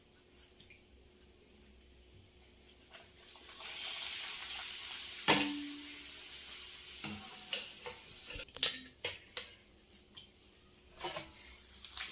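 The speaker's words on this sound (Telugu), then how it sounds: "పాపడాలు వేయించుకుందామండి సాంబార్లోకి." Papads for sambar fry in hot oil, with a steady sizzle swelling as they go in, followed by scattered clinks and stirring taps from a utensil, close and moderately quiet.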